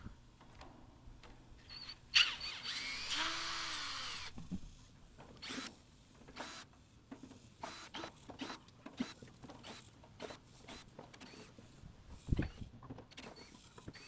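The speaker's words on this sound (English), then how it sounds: "I'm going to remove all these screws on the outside of the lid here" A power drill fitted with a 5/16 socket backs screws out of an air conditioner lid: one longer whirring run, then a series of short clicks and brief bursts, fairly quiet and close.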